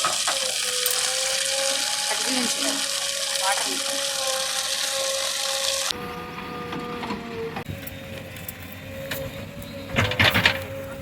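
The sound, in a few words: borewell pump running, water gushing out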